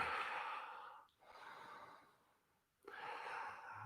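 Deep, audible breaths during a Bikram-style yoga class, taken while holding a leg-lift pose on the mat: two long airy exhalations separated by a brief pause, close and fairly loud, with no talking.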